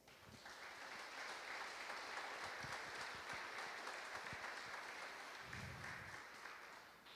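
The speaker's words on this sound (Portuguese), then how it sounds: "E as palmas é para Deus." A church congregation applauds during a worship service, a dense, steady wash of clapping that holds evenly for several seconds, with a few faint low sounds underneath.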